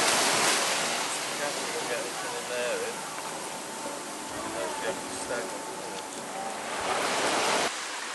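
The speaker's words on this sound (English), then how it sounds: "The sea's just starting to lap around the rock now." Sea waves lap and wash around rocks on a beach at Praia da Rainha in Cascais near Lisbon, a steady broad hiss of surf with gentle swells, while voices talk quietly over it.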